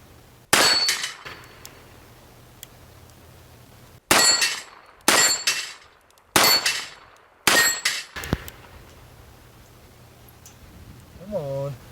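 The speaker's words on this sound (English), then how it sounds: "I've got 6 shots in a revolver, 6 plates" Revolver shots ring out one at a time, each followed by a bright metallic clang as a steel plate target is hit, five reports spaced a second or two apart with faint talk afterward.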